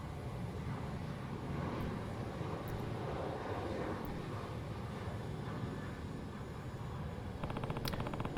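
A steady, loud airplane engine drone from the video game Like A Dragon: Infinite Wealth, with the aircraft still taxiing or parked before arrival, holding an even roar throughout with a few light clicks near the end.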